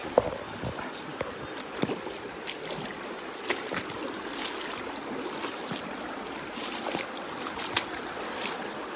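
Shallow river water swishes and splashes steadily during a crossing on a mixed farm, with soft scattered sloshes and faint knocks throughout and no talking.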